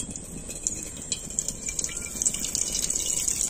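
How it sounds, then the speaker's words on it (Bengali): Water poured into a kadai (cooking pan) on a stove while making oil-free veg pakora, a steady close bright splashing stream that grows slightly fuller toward the end, with no talking. "এবার আমি কড়ার মধ্যে দিয়ে দিচ্ছি জল।"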